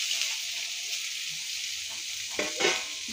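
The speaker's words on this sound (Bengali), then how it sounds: "দিয়ে শাকটাকে ভালো করে ভেজে নেব" Boiled leafy greens sizzle in hot oil with fried onions and chilli in a pan, a soft, steady crackle with brief stirring scrapes near the end.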